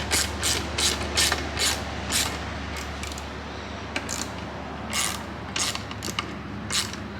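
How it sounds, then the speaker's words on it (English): A 10mm socket ratchet tightens bolts while a diesel heater is installed, giving a series of quick, close clicking bursts in irregular rapid strokes, with short pauses between them. "now I'm going to take my 10mm socket and I'm going to tighten this up"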